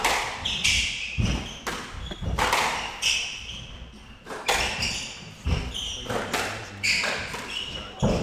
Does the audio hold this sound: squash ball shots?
yes